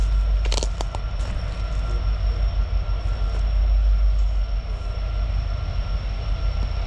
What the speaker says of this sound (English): But here comes the train, guys.